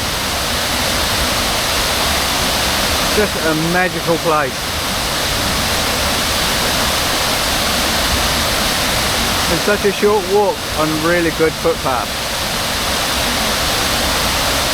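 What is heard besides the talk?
Catlin Falls waterfall in New Zealand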